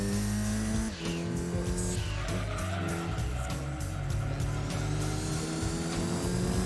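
A Mitsubishi Evo VI RS races in Gran Turismo 2, its engine droning steadily and loud throughout while tires squeal through corners, with no talk over it.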